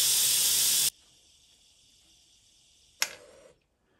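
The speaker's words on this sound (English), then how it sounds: "steam valve and let all the pressure out." An Instant Pot's steam valve vents pressure in a loud, steady hiss that cuts off abruptly, followed by a short quieter burst of escaping steam a couple of seconds later, close up and with no voices.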